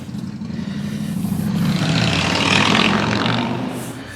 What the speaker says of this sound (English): apologies for the motorcycle sounds.